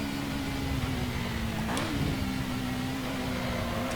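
Alfa Romeo 155 Ti V6 engine in Assetto Corsa at Imola, a sustained loud mid-pitched drone holding steady revs with a brief dip and recovery around a shift, no talk over it.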